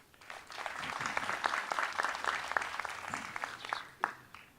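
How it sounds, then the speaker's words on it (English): Applause from an outdoor Memorial Day service audience, moderately distant and steady for several seconds, with a few sharper individual claps standing out. "Yeah, you better clap for her."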